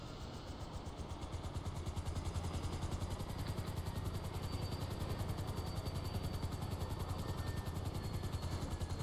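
A helicopter in GTA 5 with steady rotor thumping and engine whine that hold constant and loud throughout, with no one talking.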